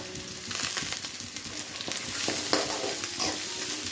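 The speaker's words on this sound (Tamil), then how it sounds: "இப்போ வெங்காயம்லாம் நம்ம போட்டு வதக்கலாம்." Sliced onions with curry leaves sauté in hot oil in a pan for a hariyali chicken dish, a steady close sizzle broken by scraping stirs and light clinks of the spoon.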